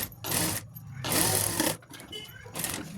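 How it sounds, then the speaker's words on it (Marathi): Sewing machine stitching a fabric pocket, running in three loud bursts of steady whirring with short pauses between, close and alone. "त्याला आपण वरून शिलाई चेन लावून घ्यायची आणि वरून शिलाई मारून घ्यायची आहे"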